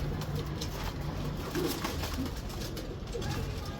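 Soft pigeon cooing blends into a steady low rumble of outdoor background noise, with murmuring, rounded calls that are hard to separate from one another.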